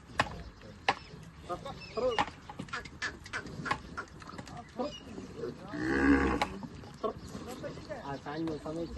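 Kankrej cows low and moo at evening milking and feeding time on a farm, with a drawn-out moo rising above someone talking nearby.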